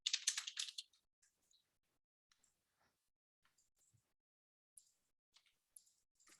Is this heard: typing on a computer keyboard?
yes